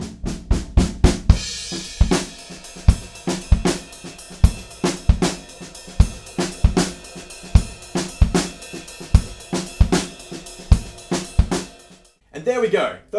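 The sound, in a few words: drum kit playing verse beat with ghost note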